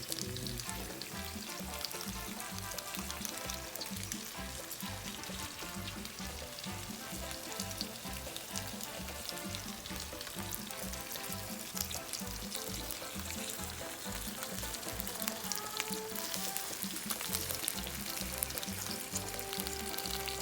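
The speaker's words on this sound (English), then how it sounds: "We're gonna start cooking the fish. Make that pan hot." Steady, dense sizzling of salmon frying in a hot pan, loud and close, with constant crackle and spatter and no voices.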